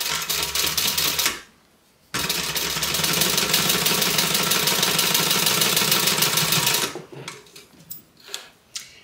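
A sewing machine stitches a seam closed with a close, loud, rapid whir. It stops for a short gap, then runs steadily for about five seconds, and ends with a few short bursts and clicks.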